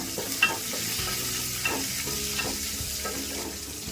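Half an onion with cumin seeds and curry leaves sizzles in hot oil for sambar, a steady close crackle broken by soft scrapes of stirring at a regular pace.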